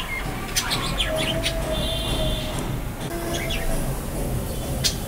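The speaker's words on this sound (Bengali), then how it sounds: "পাখি সারাদিন শুধু কিচিরমিচির আর মারামারি।" Several birds chirp in sharp, high bursts and short trilling calls throughout, set against a constant low rumbling background noise.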